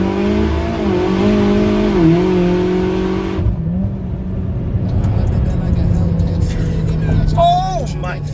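A 500 WHP built Mitsubishi Evo X MR, all-wheel drive, accelerates hard, its engine note rising loud and close before a shift, then revving again with squealing tyres near the end, with voices over it.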